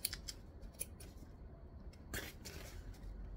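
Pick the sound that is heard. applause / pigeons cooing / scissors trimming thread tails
scissors trimming thread tails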